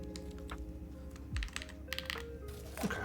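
Typing on a Zonex75 mechanical keyboard with foam inside, a few scattered muted clacks and thocky key presses at an irregular pace, close up and fairly quiet.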